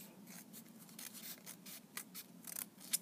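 Scissors cut through folded paper to make a paper tassel, a run of soft, quiet snips in quick succession, close up in a hushed room.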